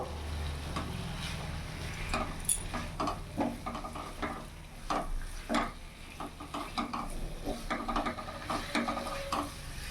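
Fried small potatoes are stirred into a spice masala in a hot pan for a duck egg curry, with repeated scraping stirs and light clatter over a low, steady sizzle.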